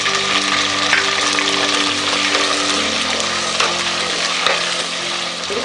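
Whole onions and vadagam frying in hot oil in a pan for a village-style murrel fish curry (viral meen kulambu), a steady close sizzle with occasional stirring scrapes, no voices.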